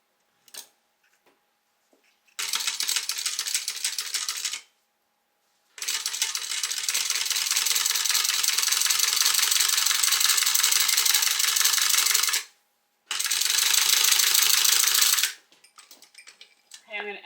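A sewing machine top-stitching zipper tape on a crossbody bag runs in three close, steady bursts of rapid mechanical whirring, separated by short pauses and quiet handling.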